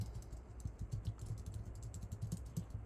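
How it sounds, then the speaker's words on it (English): Rapid clicking of a computer keyboard being typed on, steady close-up keystrokes with no talking. "I'll type that in here now"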